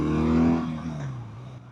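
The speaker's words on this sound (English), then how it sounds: "There's a good downshift." A 2025 BMW R12 nineT motorcycle engine revs hard and then drops in pitch through a downshift, a loud close engine growl that trails off as the revs fall.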